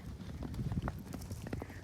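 A herd of horses running around a field, some wearing blankets, makes a steady patter of soft hoofbeats under a busy outdoor rumble.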